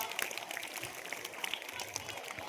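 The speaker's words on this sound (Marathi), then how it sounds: "जोरात टाळ्या वाजवा सर्वांनी" Students at a secondary school clap together in a steady, moderately distant patter of applause that continues evenly throughout.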